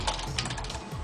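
A computer keyboard clatters in a quick run of light key taps while an email is typed into a telnet session, close and clear with no voices.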